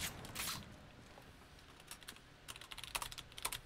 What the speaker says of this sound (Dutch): Ik moest even snel typen, want de zombies kwamen achter me aan